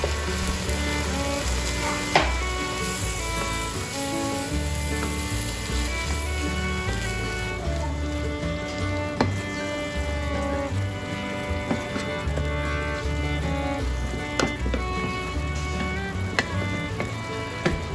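Keema curry stir-frying in a pan with tomato, curry powder, ketchup, Worcestershire sauce, water and granulated consommé, a steady sizzle with scraping and clinking of the spatula, faint music behind.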